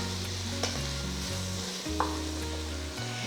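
Chopped meat being browned in lard in a pan, with a steady close sizzle and a couple of sharp stirring scrapes over a low continuous hum.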